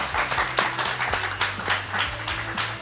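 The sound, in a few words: studio audience applause for guest Paulo Sousa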